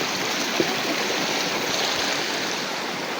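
A steady rushing of flowing river water at a farm resort in Camuayan, Misamis Oriental, even and continuous from start to finish, with no voices.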